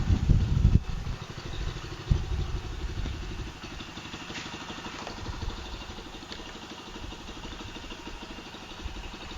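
A motorcycle engine fitted with its original CDI unit idles with a steady low clattering pulse. It is moderately close and even throughout, with no talk over it.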